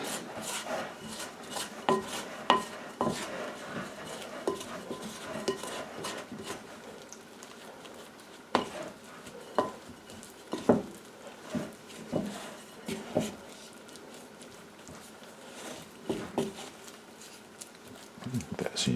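Sourdough dough is worked by hand in a bowl to take up added flour, producing close, soft, irregular rubbing, squishing and scraping sounds with occasional sharper taps against the bowl.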